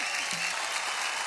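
Loud, dense applause from a studio audience on a children's singing competition show, a continuous wash of clapping that fills the whole moment without pause.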